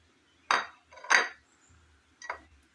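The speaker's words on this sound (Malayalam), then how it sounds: "ഒരു കുക്കർ എടുത്തതിന് ശേഷം കുക്കറിലേക്ക് ചക്കക്കുരു അരിഞ്ഞത് ഇട്ട് കൊടുക്കാം" Chopped jackfruit seeds are tipped into a pressure cooker, making three short, close clattering knocks against the metal, with quiet gaps between them.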